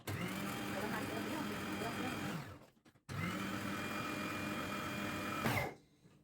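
Electric hand mixer beating cake ingredients together in a home kitchen, a steady whirring motor drone that runs for about two and a half seconds, stops briefly, then whirs again before cutting off.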